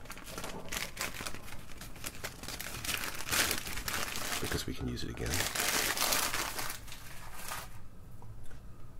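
Steady crinkling and rustling of a paper bag fills the clip, close and continuous, while a person speaks briefly over it.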